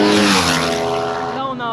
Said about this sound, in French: avec les motos qui passent, ça fait du bruit